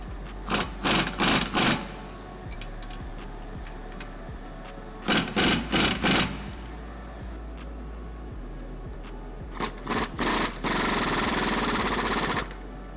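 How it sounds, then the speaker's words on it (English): Lower suspension bolts on a lifted Tesla Model Y get tightened with a power tool in several separate rattling bursts, each lasting about a second, over a steady low hum, with no talk. "now we will fully tighten all of our lower bolts with the weight of the vehicle on them"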